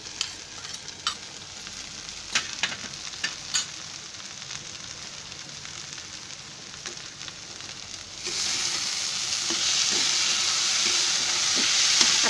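Green chilli and garlic fry in a pan of oil for a Maharashtrian tomato bhaji, with a steady sizzle and a few scrape taps early on; about two-thirds through, the sizzle suddenly swells much louder and hisses on without talk.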